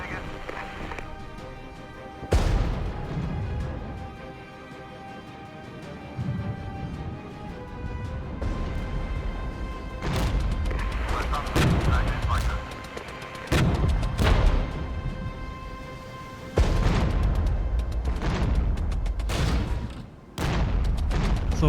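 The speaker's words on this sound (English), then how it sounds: "So that was just the mortar unit" Mortar rounds fire in the wartime strategy game Regiments, a series of heavy booms and sharp blasts spread irregularly across the stretch, with someone talking between and under them.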